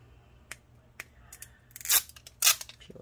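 Scissors make several crisp snips while cutting a square of clear tape during a laptop fan repair. Light isolated clicks come first, then two louder, longer cuts close by in a quiet room.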